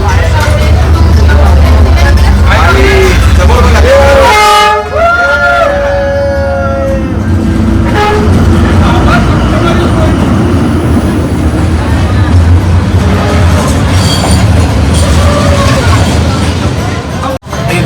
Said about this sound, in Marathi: एकदम मस्त झाली ट्रेन आली, म्हणजे बोलायच्या अगोदर संपली.